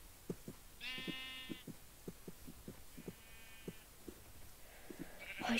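Sheep in the Minecraft video game bleat twice, each a short wavering cry, over a steady thumping heartbeat-like pulse and low game ambience.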